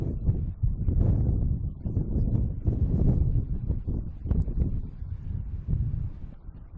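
A strong wind gust buffets the microphone at an airport where planes are landing, giving a steady low roar that swells and eases for several seconds, with no voices over it.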